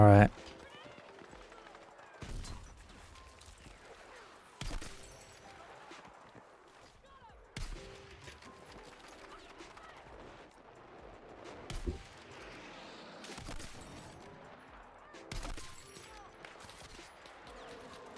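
Rapid bursts of gunfire from a shooting video game, recurring every few seconds as sharp broadband volleys over a continuous game soundtrack, with a person talking intermittently throughout.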